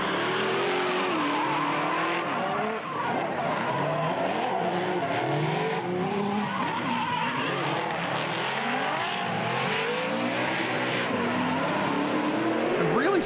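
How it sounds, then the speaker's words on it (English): A Nissan S14 drift car and a chase car slide through the middle section of a drift competition track, with tires squealing and engines revving loudly throughout while a commentator talks over the noise. "That S14 just seemed to change direction a little bit quicker than Jabs' car, flicking it nicely through the middle zone there."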